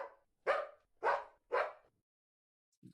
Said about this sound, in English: The other one is like barking in the back.